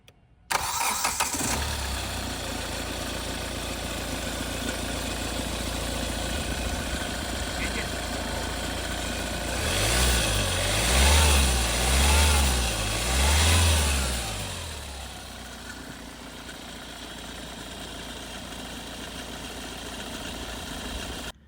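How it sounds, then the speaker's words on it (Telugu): A used Hyundai i20 car starts with a short crank and settles into a steady idle, then revs up and down three times before dropping back to idle. The engine sounds close and fairly loud. "ఒకసారి ఇంజిన్ స్టార్ట్ చేసి మీకు ఇంజిన్ ఆయిల్ రిఫ్లెక్షన్ ఏమన్నా చూద్దామండి"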